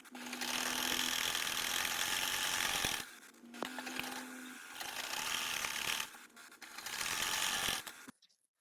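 Sewing machine stitching two sides of a fabric scrap together with a half-inch seam, running in three steady sustained bursts separated by brief pauses.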